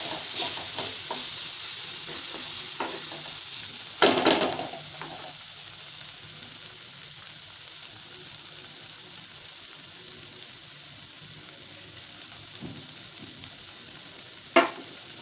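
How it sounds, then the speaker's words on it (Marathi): Garlic paste sizzles and sautés in a pan of cooked tomato, a steady close frying hiss with occasional stirring scrapes and a couple of sharper clatters, no voices. "त्यामध्ये आता हे फक्त लसणाची पेस्ट बनवून घेतली. थोडंसं परतू द्यायचं."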